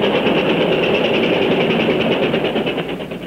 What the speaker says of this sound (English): so we'll make sure we know if a train is coming